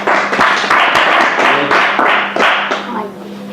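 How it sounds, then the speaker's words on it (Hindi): A group of students clapping in a classroom at a gurukulam, a lively burst of applause with rhythmic hand claps that gradually thins out, close and fairly loud. "ताली बजा देते हैं।"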